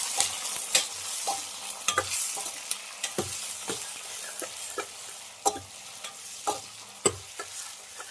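Green chillies and onion sizzle as they fry in a pan of tempering spices, with a spoon scraping and stirring in irregular clatters over a steady hiss, close and alone with no voices.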